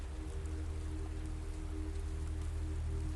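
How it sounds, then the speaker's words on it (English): Soft, steady rain pattering on London cobblestones, a continuous close hiss of drops with a low rumbling undertone and no voices. "The soft patter of rain on London cobblestones, that gentle percussion that has soundtracked this city for centuries."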